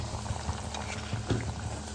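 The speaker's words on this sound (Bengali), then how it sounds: "এই যে আমি একে একে কিন্তু এখানে সব ভেজে নিচ্ছি" Food pieces frying one by one in oil over low heat make a soft, continuous bubbling crackle, fairly faint and even throughout.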